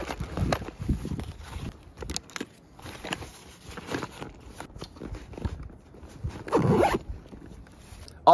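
A zipper on an inside pocket of a treestand climbing pack is pulled open in several quick rasping bursts, close and clear, with a louder stretch near the end.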